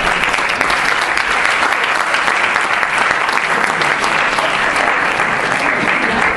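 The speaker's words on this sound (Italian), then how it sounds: "Salutiamo già con un applauso la professoressa Alessandra Angelici" Loud, dense applause from a seated audience welcomes a speaker at an Italian talk on preadolescence, steady unbroken clapping filling the whole stretch.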